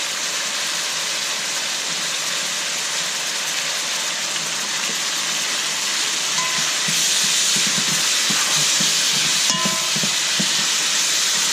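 Onions sizzle in a pan while cooking for pan con bistec, a loud, steady, close hiss with light crackles and pops scattered through it.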